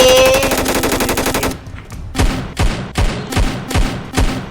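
Rapid gunfire in the Roblox game War Age Tycoon opens with a fast, loud, evenly spaced burst of automatic shots, then slows to about six heavy single shots with booming low thuds at roughly half-second intervals.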